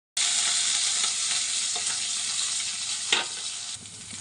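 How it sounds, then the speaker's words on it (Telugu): Ivy gourd pieces fry in hot oil in a pan, giving a steady, close sizzle with a brief scrape of stirring near the end; no voices. "దొండకాయలు వేసుకున్నాను."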